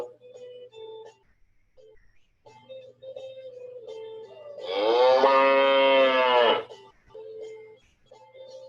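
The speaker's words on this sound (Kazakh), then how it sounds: "Сиыр." A single long, loud cow moo sounds close by, flanked by light background music before and after.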